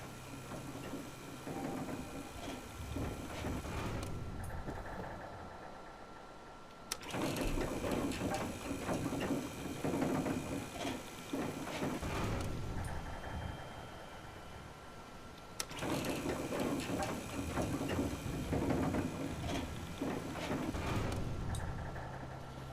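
An elevator descending in Fallout 4 gives off a steady mechanical rumble and hum, with abrupt shifts in the drone at two points along the ride and no voices.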